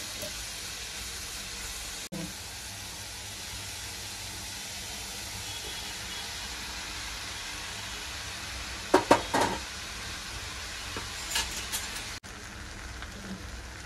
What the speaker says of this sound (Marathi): आता मी याच्यात नूडल्स टाकते